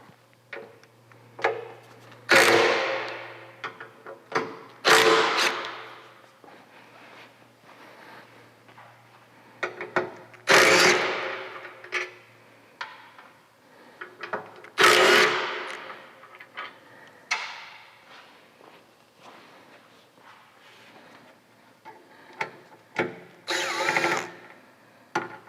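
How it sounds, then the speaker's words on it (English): Hand and power tools loosening the fender bolts on a Harley Softail, heard as several loud, brief bursts of whirring and clanking separated by quieter ticks and handling noise, close by with no talking. "Now we can just undo the 2 bolts on each side, and this whole thing is gonna come off"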